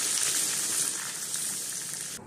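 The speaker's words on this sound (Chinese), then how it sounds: "咱们再放上一罐啤酒" A can of beer poured into a hot pot of braised pork with aromatics, giving a brief steady bright sizzling hiss and bubbling, moderately loud and close, without talk.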